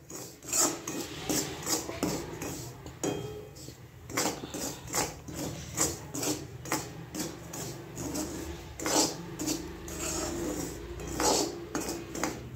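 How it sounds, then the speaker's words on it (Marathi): Dry semolina is scraped and stirred in a pan, a spoon repeatedly rasping and tapping against the metal in an uneven rhythm, close but soft. "हे बघा, रवा भाजून घेते मी।"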